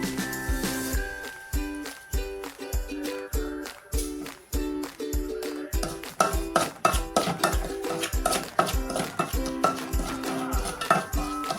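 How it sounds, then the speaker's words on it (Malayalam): A spoon scrapes and clinks against a pan while roasting semolina in a quick, regular rhythm, the dry stirring repeated steadily and close up. "വറുത്തനത്തി എടുക്കാം ചെറുതായിട്ട് ചൂടാക്കി എടുക്കാം റവ"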